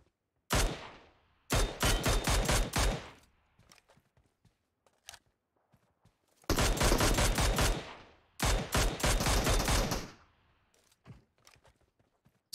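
Video game battle gunfire arriving in bursts: two clusters of rapid, loud, close automatic shots, a quiet gap with faint scattered pops, then two more long sustained volleys, with no voices.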